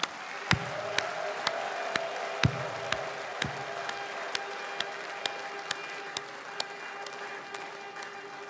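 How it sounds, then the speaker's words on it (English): Audience applause at a gathering declaring the restoration of Biafra, heard as a sparse, steady patter of claps with a few sharper, louder hand claps standing out over a constant hum and faint crowd murmur. "another hands of applause for Mr. Dodd."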